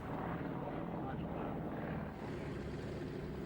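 A Bücker Jungmeister propeller aircraft takes off at an airshow at Duxford, heard as a faint, distant, steady engine drone.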